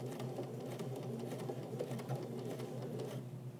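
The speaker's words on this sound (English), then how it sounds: "let's start by doing a back stitch" A quiet sewing machine back stitches the hem of a pair of jeans, a close, steady mechanical whir with a light rhythmic needle clatter running continuously without pause.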